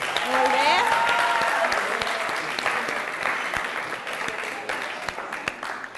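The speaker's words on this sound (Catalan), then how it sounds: "Un aplaudiment." Applause from a school audience at a Catalan spelling quiz show, a steady wash of clapping that swells early and slowly fades over several seconds, with a faint voice briefly heard near the start.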